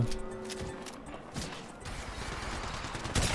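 Scattered gunfire in the mobile shooter Apex Legends Mobile, with bursts of shots and sharp clicks in a busy, mid-level game soundscape, without any talking.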